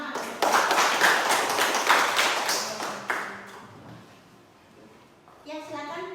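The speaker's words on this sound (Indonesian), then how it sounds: "Berikan tepuk tangan." Pupils in a classroom burst into brisk clapping for about three seconds, the sound tapering into a quiet stretch before a voice speaks near the end.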